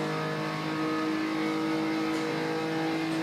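A Porsche 911 race car engine at the Nurburgring roars steadily at high revs, loud and close, with a sustained droning tone and no voices.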